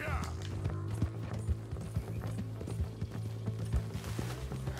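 A horse gallops in Red Dead Redemption 2, its hooves drumming in a quick, steady clip-clop under a sustained tonal game soundtrack, moderately loud and close.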